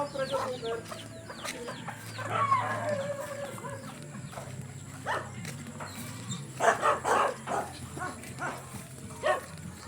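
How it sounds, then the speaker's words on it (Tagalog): Ducks quacking and honking in a farmyard chorus, with a louder burst of calls toward the end and other animal sounds mixed in. "Ay, mga pato."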